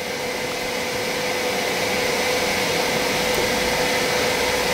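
A Bambu Lab X1 3D printer runs its homing routine after the nozzle cools to 140 degrees, giving a steady, continuous whir of fans and motors with a faint tonal hum, close and constant with no talk.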